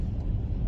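A Mercedes-Benz GLE43 AMG in Sport Plus mode gives off a low, steady engine rumble from inside the cabin, moderate in level and unbroken for under a second.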